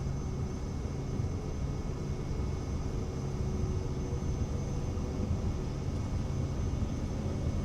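Steady, loud airplane engine roar with broadband rushing noise throughout, no pauses, as a simulated plane takes off from a small, narrow runway in Microsoft Flight Simulator 2020.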